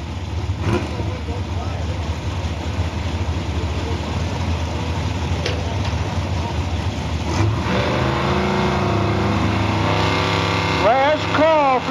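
Drag racing cars, a 74 Chevrolet Nova and a 68 Mustang, loud engines droning and revving at the strip, building to rising acceleration sweeps near the end, with a public-address voice mixed in.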